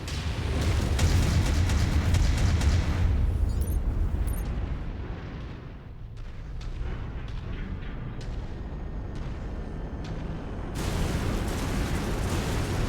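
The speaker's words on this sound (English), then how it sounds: "Incoming missile." Missile impacts and explosions in the MechWarrior 5: Mercenaries mech combat game, with loud, heavy booming blasts and rumble filling the first few seconds, then a quieter lull before another surge of rumbling detonations.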